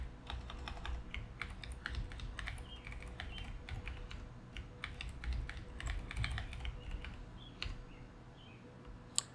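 Fingers type personal details on a computer keyboard. Quiet, steady keystrokes patter close by in uneven runs, with a single sharper click near the end.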